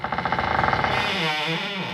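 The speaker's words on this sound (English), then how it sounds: "the sound you actually heard may or may not have been a door from a haunted house that we found on the internet" Downloaded creaking haunted house door sound effect: a rapid run of stuttering creaks that smooths into a long, wavering groan, close and moderately loud with no voices.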